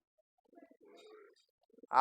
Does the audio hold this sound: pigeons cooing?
yes